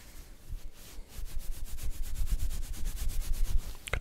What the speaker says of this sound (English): Scratching sound on fabric